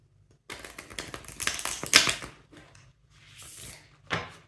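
A deck of tarot cards is shuffled up close, a run of quick crisp riffling and tapping bursts that stop, followed by a soft rustle and a final snap, with no voice.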